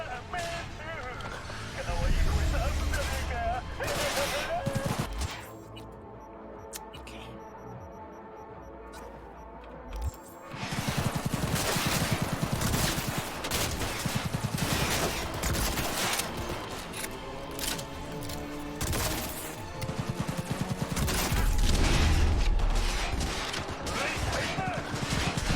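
Video game gunfire rattles in dense bursts, a loud crackling fusillade with mechanical clatter that drops briefly to a quieter stretch before resuming heavily.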